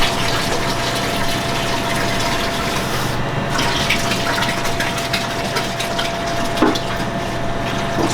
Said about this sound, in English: I'm gonna put the milk in first so that the sugar and milk powder can be absorbed into